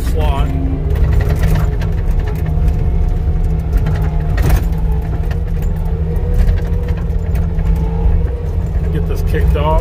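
A skid steer loader's diesel engine drones steadily and loudly from close by for the whole stretch, a low constant rumble with slight shifts in pitch.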